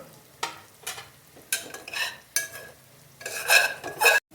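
Minced meat frying with onions in a pan for Punjabi stuffed karela, with repeated stirring scrapes and sizzling bursts that grow louder toward the end; no one speaks.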